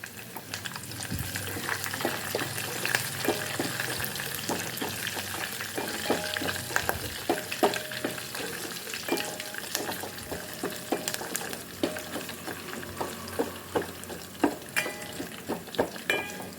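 Curry leaves dropped into a hot tempering in a pan sizzle and fry continuously, with crackling pops and occasional stirring scrapes throughout, close and steady.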